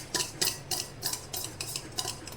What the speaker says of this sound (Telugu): ఇప్పుడు ఒక విస్కర్ తీసుకొని విస్కర్తో బాగా కలుపుకోండి